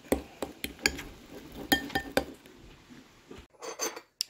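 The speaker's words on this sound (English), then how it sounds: "We'll get it all stirred up." A spoon stirs deviled egg filling in a bowl, clinking against the dish in scattered light taps, close and fairly quiet.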